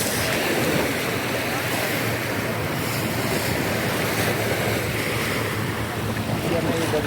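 Waves washing onto wide Playacar beach in Playa del Carmen, Mexico, a loud continuous surf roar mixed with wind buffeting the microphone, no spoken words.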